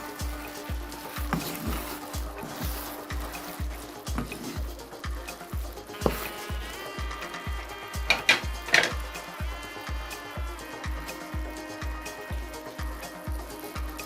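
Boiled rice being stirred in a pot as the water nearly cooks off, a low bubbling sizzle beneath a steady rhythmic pulse, with scraping and a few clinks of a utensil midway.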